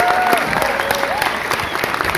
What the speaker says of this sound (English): So can we just give her a huge cheer because she's amazing?